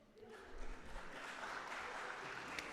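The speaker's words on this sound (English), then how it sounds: "I didn't know that would get applause from a group of performers" An audience of performers breaks into applause at a music symposium, clapping building within the first second and holding as a dense, steady wash to the end.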